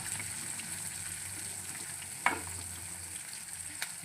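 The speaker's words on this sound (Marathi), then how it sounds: "छान लालसर होईपर्यंत कांदा तळून घेतली" Onions, with curry leaves and green chillies, fry in a pan until reddish, giving a steady close sizzle with one sharp clink of a spoon partway through and a fainter tap near the end.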